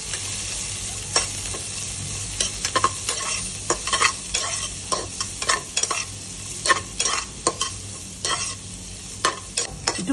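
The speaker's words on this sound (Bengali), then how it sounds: "আমার পেঁয়াজগুলো ভাজা হয়ে গেছে" Onions and green chillies fry in oil, with a steady sizzle broken by frequent scraping stirs of a spatula in the pan, close up and with no one talking.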